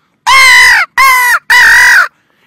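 A hunting call imitating crows gives three loud, harsh caws in quick succession, each about half a second long, close and alone.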